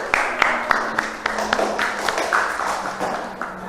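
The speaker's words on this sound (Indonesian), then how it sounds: "kasih tepuk tangan untuk kelompok 7" Schoolchildren in a classroom clap for a group that has just presented, a short burst of brisk, uneven hand claps, fairly close and loud, with a few sharp individual claps standing out.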